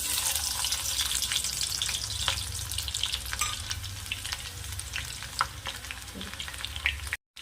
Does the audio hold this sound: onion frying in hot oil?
yes